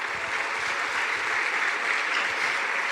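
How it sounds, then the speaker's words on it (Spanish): A church congregation claps during a Spanish-language sermon, a steady, dense wash of applause lasting about three seconds with no voices. "Denle un aplauso a Cristo Jesús."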